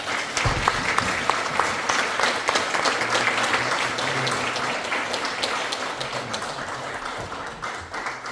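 Steady, dense audience applause at a youth seminar in a National Assembly meeting room, continuous clapping from a roomful of people lasting throughout.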